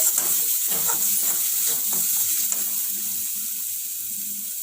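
Onion-based masala for kadhai mushroom sizzles and fries in a pan while a spoon stirs it now and then, a steady close hiss with faint scraping taps.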